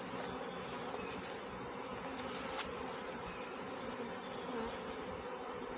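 Honeybees buzz steadily around an open beehive, a dense continuous hum with a constant high whine and no talking.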